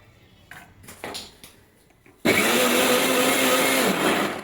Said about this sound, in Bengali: ব্লেন্ডারের শব্দ শুনে আমার ছেলে আসছে